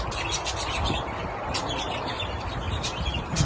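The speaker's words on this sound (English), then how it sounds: "The other birds seem to like it." Birds in an aviary chirping and tweeting, scattered high calls over a steady rushing background, moderately near, with no talking.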